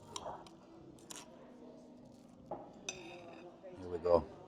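Cutlery cutting into crispy food from a full Irish breakfast, with a few faint scraping clinks and crunches of knife and fork on a plate, quiet and close with light background noise.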